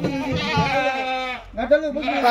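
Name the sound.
Kathiawadi goats bleating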